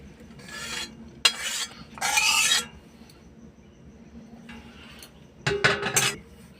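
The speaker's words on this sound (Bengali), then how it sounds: "দেখুন আমি এই পাত্রে এবার ডালটা একটু ঢেলে নিচ্ছি।" Thick lentil dal chorchori being scraped and poured from a pan into a serving bowl, with several separate bursts of rasping spoon scraping and soft metallic clinks, close by, no talk.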